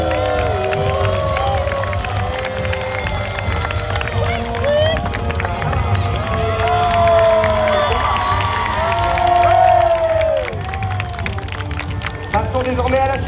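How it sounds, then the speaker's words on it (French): A crowd at an outdoor knights' tournament cheers and applauds between jousts, a steady dense wash of voices and clapping that carries through the whole stretch with shouts rising above it. "On peut les applaudir bien fort."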